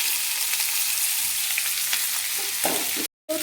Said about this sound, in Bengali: এবার আমি এঁচড়টাকে একটু কড়া করে ভেজে নেব।